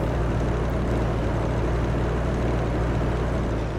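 A tractor engine in the Farming Simulator 15 video game drones steadily and unbroken at a constant level, a dense low rumble with no talk over it.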